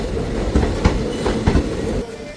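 The Sri Ganganagar–Ambala Cantt express passenger train (14735) rumbles close by with rhythmic clatter of wheels over rail joints, a steady low roar that eases off near the end.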